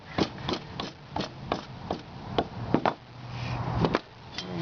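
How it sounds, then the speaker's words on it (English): A hammer strikes a metal filler piece on a 1954 Chevy while its headlights are being frenched, giving about a dozen sharp, fairly regular close blows. "We have to hammer this guy over."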